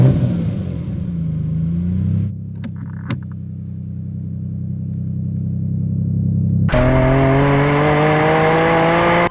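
A Lamborghini Diablo supercar engine revs with a rising, whining tone, then drops to a steady, loud drone before revving again through climbing gears, all close and without voices.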